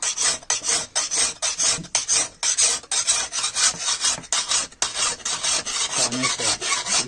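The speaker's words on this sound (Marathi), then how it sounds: "नवीन कानास आणि कानासने धार करून घ्यायची" A new file is drawn over a farm tool blade to sharpen it in a traditional Konkan workshop, giving a close, loud rasp in a quick, even rhythm of about a dozen strokes.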